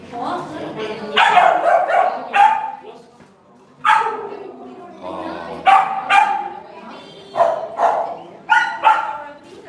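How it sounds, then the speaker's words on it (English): Several Samoyed dogs bark and yip repeatedly at close range in loud, uneven bursts with short pauses, with people talking now and then in the background. "these are Samoyed dogs"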